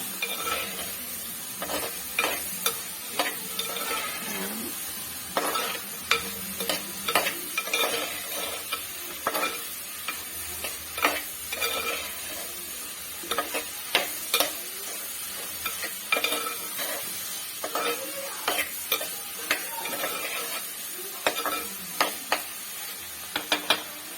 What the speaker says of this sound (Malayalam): തക്കാളിക്കായി ഉള്ളി കൂടെ വഴന്നു നമുക്ക് ഇതിനകത്തോട്ട് മുരിങ്ങക്കായ ഇടാം